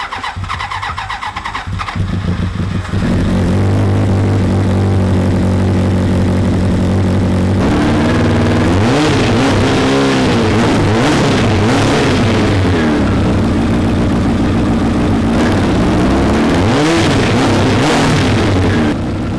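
A Roketa GK13 go-kart fitted with a CBR1000F motorcycle engine cranks and fires, then settles into a loud idle and revs up in repeated rising and falling sweeps, very close and dominant throughout.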